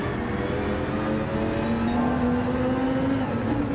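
A Dodge Viper GTS-R Gr.3 race car drones in Gran Turismo 7 on the Deep Forest circuit, its engine holding a steady, loud tone that climbs slowly, with no talk over it.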